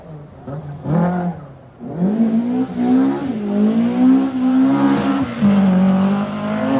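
Graham Middleton's BMW rally car in the 1990 British Open Rally Championship, its engine revving up and down in close, rising and falling sweeps.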